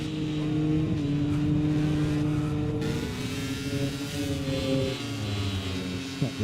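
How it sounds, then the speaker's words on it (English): An Aprilia MotoGP motorcycle engine through turn 11 at the Sachsenring, a continuous high-revving whine with pitch shifting as the bike rolls and drives out of the corner, heard from onboard with a faint voice underneath. "listen to that Aprilia sing through turn 11"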